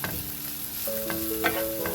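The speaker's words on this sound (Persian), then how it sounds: "خب حالا سیر با پیازمون یکم مخلوط میکنیم." Garlic and onion stirred in a frying pan, a continuous close sizzle with scraping strokes of the spoon across the pan, no voices.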